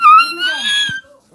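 A puppy whimpers and yips in close, high-pitched, wavering cries lasting about a second, followed by a brief low thump and near silence.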